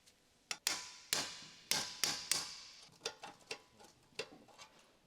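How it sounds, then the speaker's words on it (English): A hammer taps the drive shaft connection on a Ford Explorer with the 3.5L engine, about nine sharp metallic knocks at close range. The strikes come in an irregular rhythm, each ringing briefly, with no talking. "Tap the connection with a hammer to separate."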